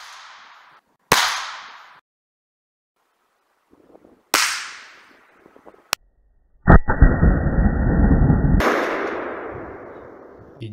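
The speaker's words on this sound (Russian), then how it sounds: "Теперь сделаю серию из 4 выстрелов и посмотрю на общую кучу." A rifle is fired while a scope is being zeroed, with three sharp, loud shots spaced seconds apart, each ringing out briefly. A steady mechanical whine follows the third shot and gives way to a broader rushing noise.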